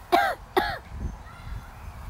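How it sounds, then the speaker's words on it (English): Two short, sharp coughs close by, about half a second apart, followed by quiet low rumbling. "Are you done coughing?"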